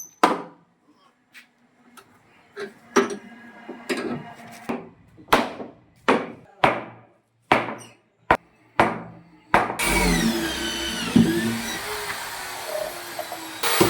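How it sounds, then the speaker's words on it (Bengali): Sharp, evenly spaced knocks and taps on wood give way to a loud, continuous machine whine as a woodworking machine starts cutting tenon joints for a door. "এখন এই মেশিন দিয়ে এটা টায়ার দেবে, জয়েন্টটা একবারে অ্যাকুরেট হয়।"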